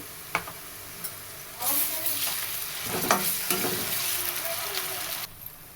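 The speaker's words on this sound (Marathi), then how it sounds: "कांदा आपला थोडंसं परतून आहे" Onion sautéing in a pan with ginger-garlic paste for a tender jackfruit curry, a steady sizzle swelling after a couple of sharp utensil knocks, with scraping strokes through the middle before it cuts off near the end.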